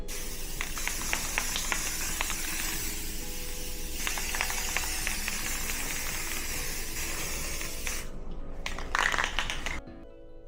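A 2K Ultra Cover gloss clear coat is sprayed from an aerosol can onto a statue in a long, steady hiss. It breaks off near the end, returns in a short burst, then stops.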